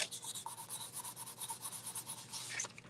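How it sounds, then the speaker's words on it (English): Firm rubbing in small circles to burnish a décor transfer onto a surface, a close, steady, rhythmic scratchy swish repeating several times a second, heard alone. "We're using small circles again, just rubbing it firmly."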